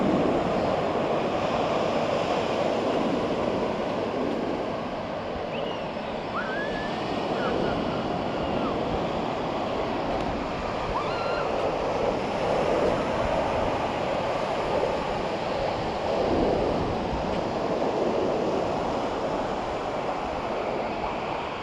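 Small ocean waves breaking at Cathedral Cove, Hahei, Coromandel, a steady wash of surf mixed with wind noise across the microphone, continuous and moderately loud, with no clear talk over it.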